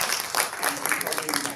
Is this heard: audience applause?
yes